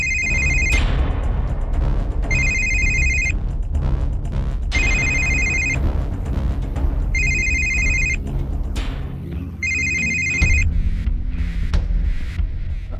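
A telephone bell rings in five loud, evenly spaced bursts of about a second each, over a steady low background hum with no talk.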